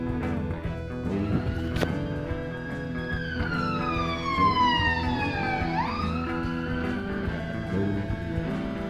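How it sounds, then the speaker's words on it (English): An ambulance siren screams past in a wailing sweep that drops in pitch at the pass, moderately loud over steady background hum. "we just had an ambulance scream by"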